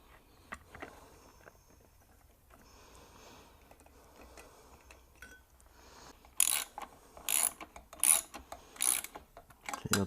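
Short bolts being tightened on a Honda E1500 generator, with quiet tool clicks and handling at first, then a run of sharp, loud ratchet-like bursts near the end, no talking.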